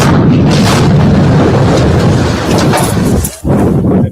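A loud, sustained blast roars through a propaganda clip, a dense rumbling explosion filling several seconds before a brief dip and a second surge, with no talking.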